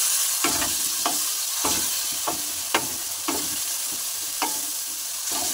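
Spice masala for vegetarian ghugni fries in a pan while a spoon stirs it, giving a steady sizzle broken by about ten sharp scraping strokes. Nobody speaks.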